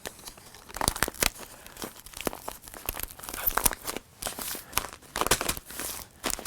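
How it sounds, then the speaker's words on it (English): Clear tape being pulled and pressed down over a folded paper bag package of a 10 by 14 inch size, with repeated sharp tearing and crinkling bursts in an irregular rhythm, close and fairly loud, no talking. "So once again, we're going to tape down the paper bag."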